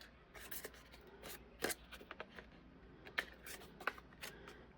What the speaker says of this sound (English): and I'm just going to trim my edges.